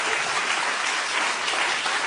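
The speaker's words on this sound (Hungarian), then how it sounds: "kis tapsot kérek ide" An audience claps in a dense, steady wash of applause, even and unbroken, with no voices heard.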